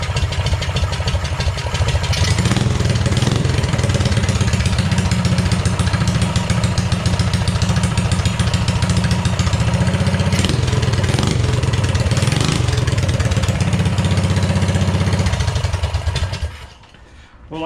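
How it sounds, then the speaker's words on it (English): A Coleman CT200U mini bike engine fitted with a Mikuni VM22 carburetor runs loudly and steadily close by, a rough, chugging small-engine idle lasting about fifteen seconds before shutting off. "I guess that's a good sign when it starts on the second pull."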